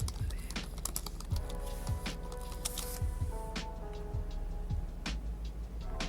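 Computer keyboard typing in quick, uneven bursts of light clicks, close and moderately quiet, with a faint steady background hum and no talking.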